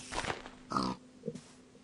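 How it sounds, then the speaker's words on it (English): A pig in the Minecraft video game gives several short grunting oinks, close and clear, spaced apart with quiet gaps between them. "let's get this pig near me"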